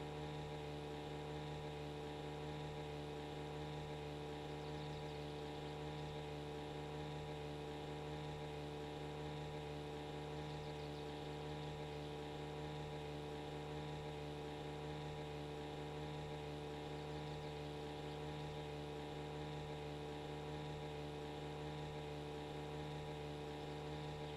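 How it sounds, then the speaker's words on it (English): A car engine idles in the video game My Summer Car, a steady, even hum with a faint rhythmic rocking pulse that holds unchanged and alone for the whole stretch. "They really haven't worked out the annoying noise engine, but I get, you know, engine sound"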